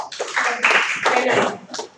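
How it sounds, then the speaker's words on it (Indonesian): An audience in a writing workshop gives a short burst of hand clapping lasting about two seconds, close and fairly loud, with voices mixed in. "Bagus, tepuk tangan"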